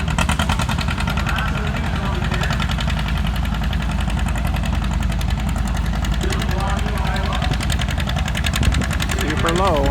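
A John Deere 630 two-cylinder tractor runs at a two-cylinder tractor show, its engine thumping in a loud, steady, pulsing idle throughout, with voices faintly audible over it.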